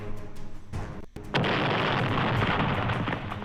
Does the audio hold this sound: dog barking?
no